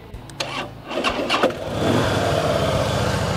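A 2011 Harley-Davidson Fat Boy motorcycle cranks with a few starter bursts, catches, then settles into a loud, close, steady idle rumble.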